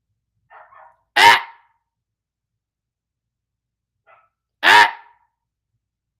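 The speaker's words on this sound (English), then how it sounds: "She finna start barking in a minute." A dog with separation anxiety gives two loud, sharp barks a few seconds apart, each preceded by a person's brief scolding exclamation, with silence in between.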